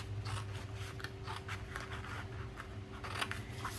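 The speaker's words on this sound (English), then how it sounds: "Should have got a little bit bigger pair of scissors to cut this big piece out." Scissors cutting through designer series paper: a quiet, steady run of small snips and crisp paper rustles repeating close by over a low background hum.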